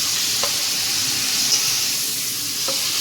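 Paneer fries gently in a pan for a vegetarian capsicum dish, giving a steady, even sizzle with a couple of faint clinks, close and without talk.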